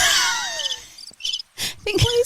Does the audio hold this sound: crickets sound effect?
yes